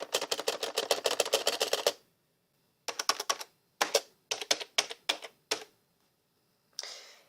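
Fast, loud clacking on a very tactile rubber-dome computer keyboard, arriving first as a steady run of keystrokes and then as short scattered bursts with pauses, close and with no voices.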